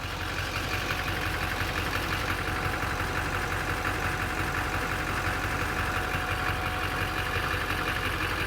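A Duramax LBZ diesel pickup truck engine idles in a garage, a steady, continuous rumble with a faint clattering knock holding even the whole time, no voices over it.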